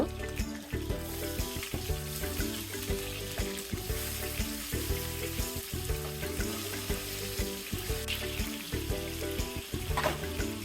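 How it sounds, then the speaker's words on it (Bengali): Chitol fish pieces frying in oil, a sizzling hiss beneath louder rhythmic clattering and background sounds, with no one speaking. "এভাবে উল্টে পাল্টে আমি মাছগুলোকে ভেজে নেব"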